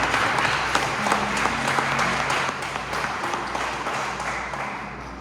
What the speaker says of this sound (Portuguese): Se você crê, dá mais uma salva de palmas ao Senhor Jesus.